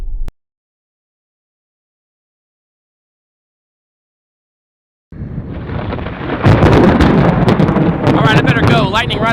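A sharp crack at the start, then silence, then a loud crash of thunder from a lightning strike directly overhead, rolling and rumbling close by in a thunderstorm with wind buffeting the microphone.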